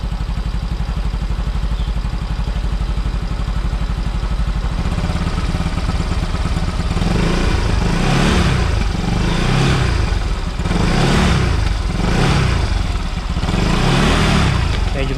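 A Yamaha Mio i 125 motorcycle engine fitted with a programmable ECU runs at a steady close idle, then revs repeatedly in rising and falling surges, loud and rough, with faint talk underneath.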